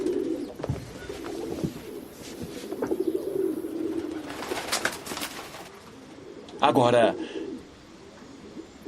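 Pigeons coo in low, throaty bursts amid outdoor city bustle, with someone talking over them and a brief flurry of louder calls and fluttering near the end.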